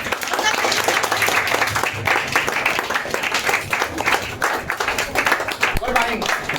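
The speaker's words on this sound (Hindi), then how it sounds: "खड़े होके तालियां बजाते हैं, तो तालियां बजाओ" A classroom audience at a money management class claps together in sustained, dense applause, loud and continuous throughout, with a brief lower thump near the end.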